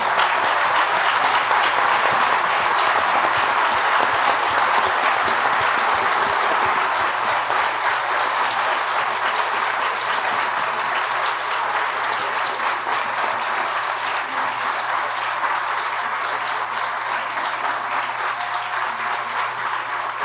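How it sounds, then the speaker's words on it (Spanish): Loud, sustained audience applause at a cartoonists' festival panel, dense crowd clapping holding steady for about twenty seconds. "Un aplauso para Antonio Helguera."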